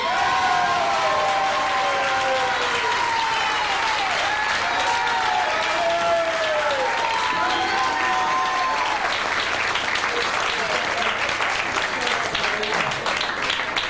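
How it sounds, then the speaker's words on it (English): A comedy club audience in New York applauds a young comic, with loud sustained clapping and some cheering filling the whole stretch as background talk and whistle-like tones ride over the top. "a big, big applause to a very funny, young, and up-and-coming comic"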